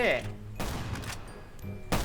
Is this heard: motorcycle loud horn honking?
no